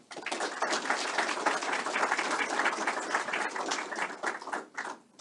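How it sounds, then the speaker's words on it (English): Applause from the audience at a military change of command ceremony, a dense, sustained patter of many hands clapping at moderate volume and tapering off near the end, with no talk over it. "Appreciate the applause before I speak."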